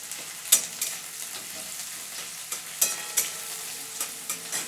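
Chopped onion frying in a pan with salt, a steady sizzle broken by repeated sharp scrapes and clinks of a spoon stirring, close and fairly loud, no voices.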